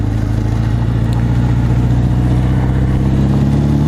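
A 1980 Honda CB900 motorcycle climbs a gravel driveway hill, its engine droning loud and close with a steady low pulsing rumble throughout.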